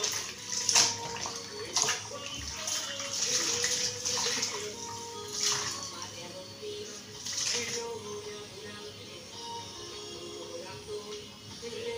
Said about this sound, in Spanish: Voy a apagar el agua ya.